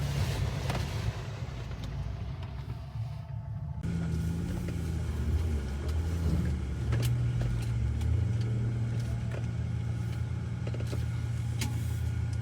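A car drives along a mountain road, giving a continuous low engine rumble with road noise throughout. A whirring motor, like a power window, is heard early on, and occasional knocks and bumps punctuate the steady drone.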